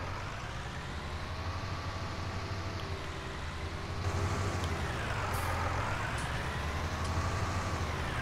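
A tractor engine runs at a steady idle in a landscape gardening setting, a continuous low rumble with faint mechanical whine, growing slightly louder midway, with no talk.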